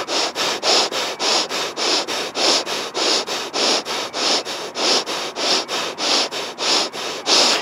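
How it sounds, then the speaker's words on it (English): Deep rhythmic breathing in a yoga pranayama exercise, a fast steady series of forceful close-miked breaths, roughly two per second, with no talking. "we're just going to use 10 breaths"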